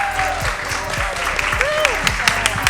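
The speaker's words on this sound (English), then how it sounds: "How about a big round of applause for our wonderful speakers?" Applause from the audience at a talk event welcoming a panel of speakers, steady clapping with sharper individual claps, a voice speaking over it briefly.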